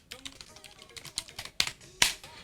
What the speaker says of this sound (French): Qu'est-ce qu'il est bien, ce clavier Logitech?